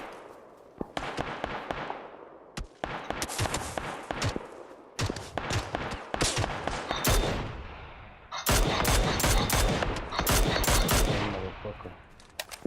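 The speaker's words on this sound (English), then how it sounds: "Somebody's shooting at you." Rapid automatic gunfire in the battle-royale game PUBG, loud and close, arriving in ragged bursts and long sustained volleys of overlapping shots with short pauses between.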